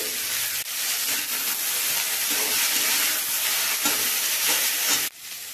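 Vegetables fry in a pan with a steady, close sizzle and hiss, interrupted by occasional stirring scrapes, with no talk.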